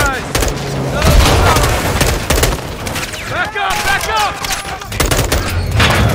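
Gunfire from a Call of Duty: Modern Warfare II campaign firefight, loud, dense bursts and rapid shots filling the whole stretch, with shouted voices breaking through over the shooting.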